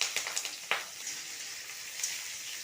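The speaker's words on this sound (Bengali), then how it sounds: "পেঁয়াজটাকে ভালো করে ভেজে নেব।" Chopped onions fry in oil tempered with whole cumin, bay leaf and chilli for a cauliflower kalia, a steady bright sizzle with a few soft crackles and one sharper pop near the start, close and moderately quiet.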